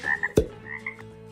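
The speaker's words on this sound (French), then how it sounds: "la grenouille" A single loud, close frog croak stands out as a short sound effect, a sharp low burst followed by fainter background tones and no speech.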